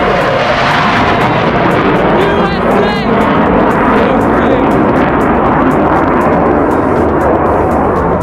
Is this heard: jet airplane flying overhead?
yes